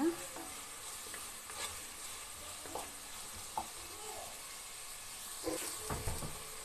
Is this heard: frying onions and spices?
yes